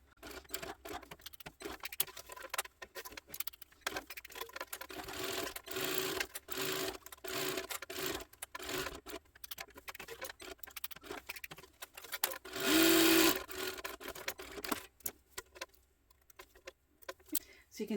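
A sewing machine stitches a box a quarter inch from the edge on an Oxbow tote bag, sounding as a close, rapid mechanical patter in several bursts with brief stops, then one louder, faster run near the end.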